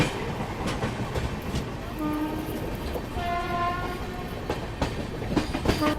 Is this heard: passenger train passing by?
yes